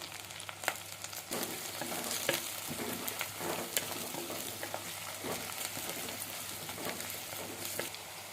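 Onions and fresh curry leaves fry in oil for a sardine fish curry, giving a steady, close crackling sizzle with brief bursts of stirring scrapes every second or so, no voices.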